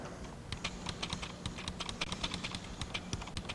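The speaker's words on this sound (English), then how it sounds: "let's try some keystrokes over here in this editor" Rapid keystrokes on a 1992-era PC computer keyboard typed into a DOS editor, a steady stream of crisp, fairly quiet clicks over a faint background hum, with no talking.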